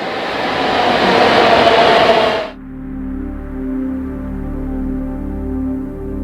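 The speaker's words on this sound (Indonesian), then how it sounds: "Keretanya nyampe." A Singapore MRT train pulls into the station with a loud rushing roar that cuts off abruptly, then a lower steady electric hum and whine as it stands at the platform.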